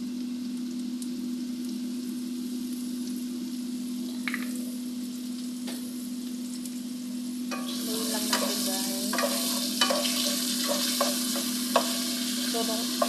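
Broccoli and carrots stir-frying in oyster sauce with pepper, a steady soft sizzle under a constant hum, followed by several scraping stirs of a spatula in the pan toward the end.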